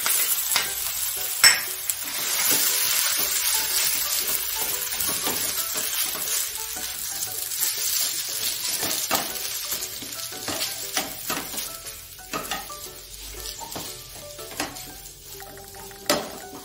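Cumin powder, coriander powder, chili paste and ginger paste stirred together in a hot pan, a steady close sizzle of frying with scraping spoon strokes and occasional metallic clinks throughout, no talking.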